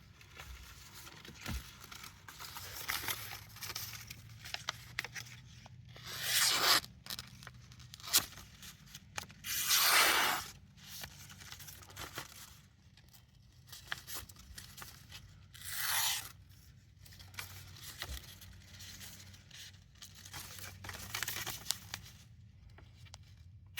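A Bark River knife blade in Magna-Cut or 3V steel slices through paper during an edge retention test, producing a series of close, scratchy tearing swipes separated by quiet pauses.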